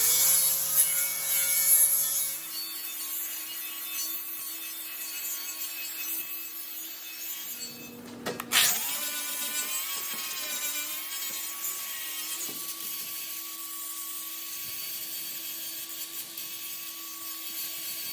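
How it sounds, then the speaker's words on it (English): A flap disc with 40 grit grinds welds on an ornamental iron gate, giving a steady, close abrasive whine with ringing tonal overtones that continues without a break, with one brief dip midway. "I used a flap disc with a 40 grit, clean everything up."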